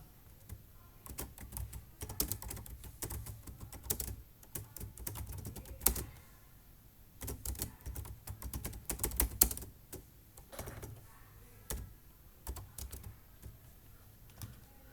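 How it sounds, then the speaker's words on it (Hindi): Fingers typing steadily on a computer keyboard, with quick bursts of close, crisp key clicks broken by short pauses and no talking. "यहाँ पे हम लोग टाइप कर देंगे पहले तो नाम"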